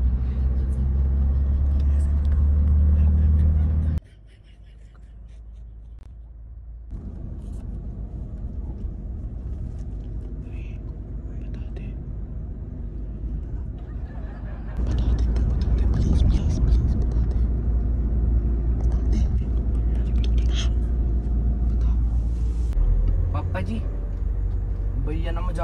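A steady engine rumble fills the inside of a moving car throughout, loud and continuous, with a drop in level partway through and people talking over it.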